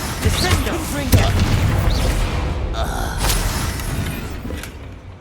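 A Confringo explosion spell bursts in Hogwarts Legacy, a loud booming blast amid clattering game effects and shattering debris, with a second impact partway through and no speech over it.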